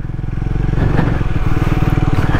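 A Triumph Speed 400 motorcycle ridden off-road, engine chugging steadily in one gear at an even speed, a loud, close, rhythmic single-cylinder thrum with no talk over it.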